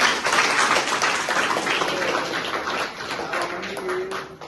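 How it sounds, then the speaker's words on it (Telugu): Audience applause at a local community gathering in Gudur, a broad dense clapping wash that runs steadily for several seconds and slowly thins toward the end, with no talk over it. "ఆయన కూడా ఒకసారి చప్పట్లు కొట్టండి"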